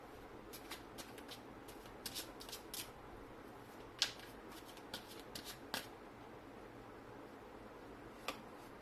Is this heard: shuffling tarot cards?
yes